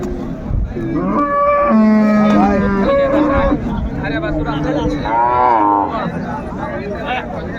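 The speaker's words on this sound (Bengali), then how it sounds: "গাভী বাছুর আমরা দেখছিলাম বেশ সুন্দর" A cow with her calf at a rural cattle market moos loudly and at length, drawn-out bellowing calls close by with faint crowd noise around.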